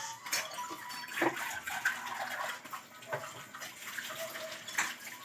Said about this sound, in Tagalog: Hugasan muna natin para hindi madumi.